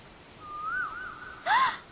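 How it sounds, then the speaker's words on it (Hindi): A single Asian koel gives a rising, whistled call, clear and moderately near in an outdoor setting, followed by a brief louder burst of breathy noise at the end. "ये तो कोयल की आवाज है। इसकी आवाज कितनी रोमांटिक है ना।"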